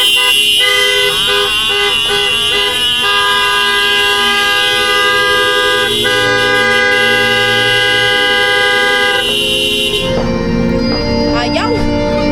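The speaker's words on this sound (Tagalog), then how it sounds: "Busina!" Vehicle horns blare continuously at a New Year celebration, several loud sustained blasts overlapping with toots and siren-like tones, while people talk and shout nearby.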